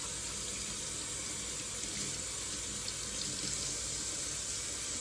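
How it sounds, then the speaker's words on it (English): Tomatoes rinsed under a running kitchen tap give a steady, even hiss of flowing water into the sink, constant throughout and fairly quiet, with no talking. "just washing our tomatoes"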